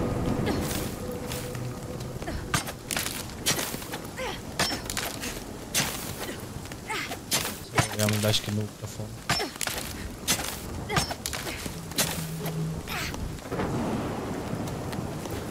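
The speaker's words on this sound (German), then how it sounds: "Kann das mal aufhören zu hageln?" Hail pelts down in a storm in the survival video game Nightingale, a dense rattling patter of ice over rumbling thunder, with someone speaking German briefly over the loud, continuous downpour.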